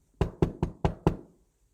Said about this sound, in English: there was a third knock at the door